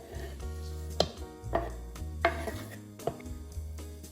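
A knife chops Thai basil and cilantro on a cutting board in steady, fairly close thuds about twice a second, with no talking.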